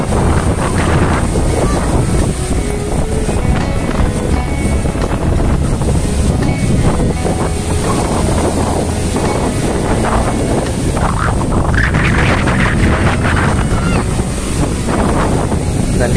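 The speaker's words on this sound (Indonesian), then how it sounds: "Ini anginnya sangat kencang ya teman-teman." Strong wind buffets the microphone by the sea on a Bali coast in August, with a steady roar and rushing surf beneath it, loud and continuous throughout with no pauses.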